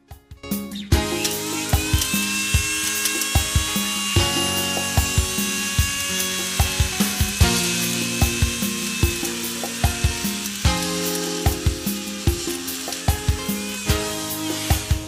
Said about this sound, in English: we're going to try to grind down the little tab that's inside there.